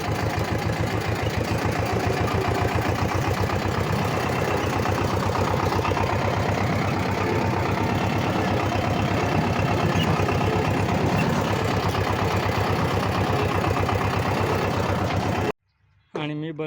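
Tractor engine idling close by, a steady loud throbbing rumble that runs almost unbroken before cutting out briefly near the end.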